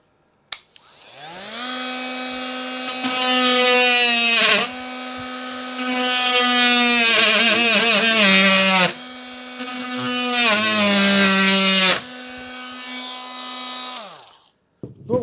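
A cordless Elitech multi-tool fitted with a wood-cutting attachment buzzes loudly through wood in three long bursts, its steady high-pitched oscillating whine wavering as the blade bites, with brief pauses between cuts.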